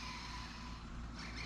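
A Losi Super Lazernut RC car runs at full throttle, a loud, close, continuous buzzing motor whine with no voices.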